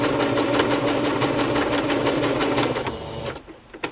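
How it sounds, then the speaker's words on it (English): A sewing machine runs a fast, steady straight stitch along the trim edge of a decorated journal cover, loud and close with a rapid mechanical chatter, then slows and stops near the end. "I'm just going to do a straight stitch down this edge where the trim is."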